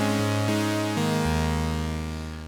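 Prophet 5 Rev4 synthesizer playing a bass patch on a single oscillator: a sustained, buzzy low tone with rich harmonics that shifts pitch in a few stepped notes, each re-triggered, steady and loud before fading slightly at the end.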